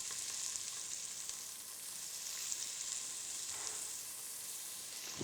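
Onions frying in olive oil in a pot, a bright, even sizzle running steadily throughout at moderate level with no talking.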